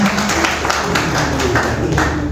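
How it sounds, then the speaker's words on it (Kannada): An audience claps loudly and steadily at a Banjara community office-bearers' installation event, a dense crowd applause filling the short moment. "ಜೋರಾದ ಚಪ್ಪಾಳೆ ಮೂಲಕ ಗೌರವ ಸಮರ್ಪಣೆ"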